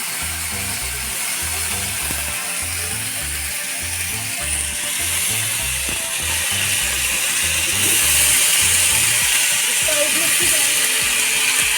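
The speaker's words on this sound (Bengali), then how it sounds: "গরম গরম তেলে সবজি ছেড়ে দিচ্ছে আলু আর ফুলকপি" Village-style potatoes and cauliflower hit hot oil and sizzle with a constant bright hiss, under a steady rhythmic mechanical thumping close by.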